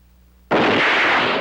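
A laboratory explosion goes off against a safety shield: brief quiet, then one sudden loud close blast that holds as a dense roaring wash for the remaining second.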